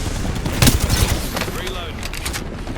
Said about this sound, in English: Stand back, knuckle cluster fire.